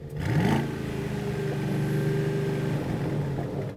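An Aston Martin engine idles and revs in a sound check, a steady rumbling drone that swells briefly early on then holds at a constant, fairly loud level with no talk.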